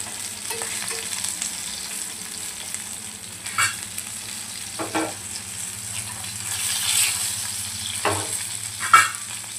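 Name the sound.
surmai fish frying in a pan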